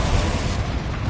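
A Confringo blasting spell goes off in Hogwarts Legacy, a loud, sustained rumbling explosion with a dense, broadband roar that holds steady for about a second.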